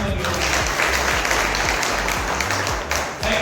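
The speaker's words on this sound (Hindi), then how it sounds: "सभी लोग ना जोरदार तालियां आप सभी लोग।" Loud, sustained applause from an audience at a business seminar in India, dense clapping filling the whole stretch with a few voices mixed underneath and a slight dip near the end.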